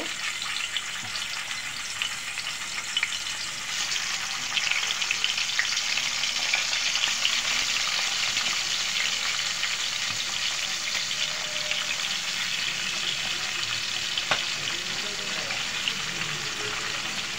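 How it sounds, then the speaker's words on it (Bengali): The remaining pangas fish sizzles in hot oil in a pan, a broad continuous hiss that swells slightly after a few seconds and holds steady, close and even, with a faint clink near the end. "বন্ধুরা দেখুন আমি বাকি মাছটা ভেজে নেব।"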